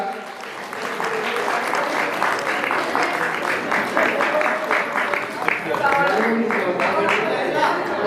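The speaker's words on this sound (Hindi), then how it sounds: "जोरदार तालियों से स्वागत करेंगे इस बेटी का" Audience applause greeting a girl honoured at the Basant Panchami fair at Kanvashram, Uttarakhand: steady, sustained clapping from a crowd throughout, with voices talking underneath.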